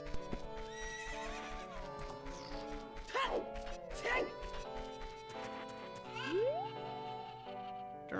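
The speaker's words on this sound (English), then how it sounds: "Let's do a few horse races." A horse whinnies twice over steady hoof clip-clops during a horse race in The Legend of Zelda: Ocarina of Time Master Quest on Nintendo 64, with game music and effects playing throughout.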